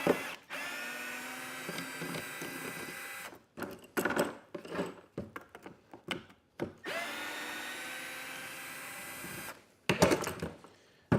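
A power drill whirs in bursts while backing out a screw during a Ford Transit dinette bed frame build, with long runs of motor whine broken by short stop-start pulses, close and alone.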